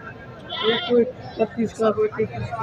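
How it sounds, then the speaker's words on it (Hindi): Goats bleat repeatedly at a crowded livestock market in Karachi, several short wavering calls close by, mixed with people talking throughout. "भाई बहुत वजनी बकरा है"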